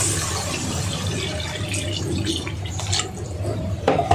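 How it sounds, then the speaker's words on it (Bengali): Water splashes and trickles into a cooking pot of catfish curry with potatoes and tomatoes, a close, fairly soft pouring with dripping and light rattling. "একটু নেড়ে চেড়ে রান্নার জন্য পানি দিয়ে দিব।"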